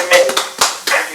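A church congregation claps hands during a Sunday worship service, several loud, close, slightly uneven claps in quick succession.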